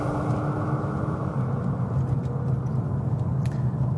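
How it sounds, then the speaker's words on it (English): A 2016 BMW M2 performs a smoky burnout with its wheels spinning, producing a steady, loud rumbling roar of engine and tires that holds throughout without pause. "smoky burnout is just one of a whole range of carefully developed elements"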